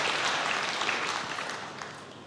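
A church congregation claps together during a sermon, a short, fairly faint burst of applause that gradually fades toward the end.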